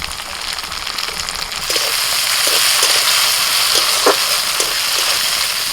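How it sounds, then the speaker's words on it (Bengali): Vigorous frying sizzle of chopped tomato and onion that grows louder partway through, with a few soft scraping stirs under the constant crackle of hot oil. "পেঁয়াজ ভাজা হলে দিয়ে দিচ্ছি টমেটো কুচি"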